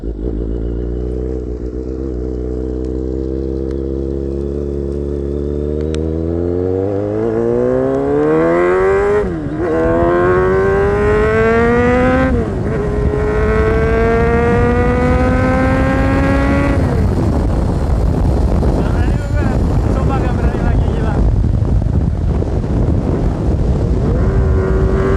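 Kawasaki Z800 motorcycle with SC Project exhaust, loud and close, idling low before climbing through several rising revs and gear pulls into a sustained high-pitched scream with a raspy edge.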